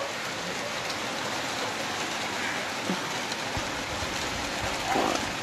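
Heavy rain falling in Narkanda on a cold, misty morning, a steady broadband hiss of downpour with scattered drop impacts, fairly even and continuous, no voices.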